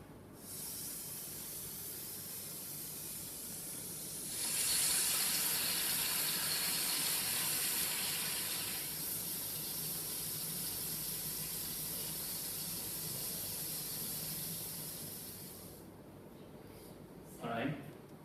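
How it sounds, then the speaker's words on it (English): Bacon frying, a steady sizzling hiss like rain that swells louder partway through and continues at a moderate level, with a brief voice near the end. "instead of the sound of rain, I've added the sound of bacon frying"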